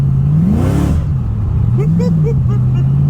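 A supercharged VK car engine revs hard at a car show with light throttle, climbing to a sharp high-pitched peak and dropping back to a rough, loud idle, then briefly blipping again, close by.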